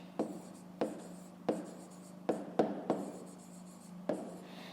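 Pen writing on paper during a school maths exercise: about seven separate short scratchy strokes, each a quick burst that fades, spaced irregularly over a few seconds, close and fairly quiet, with no talking.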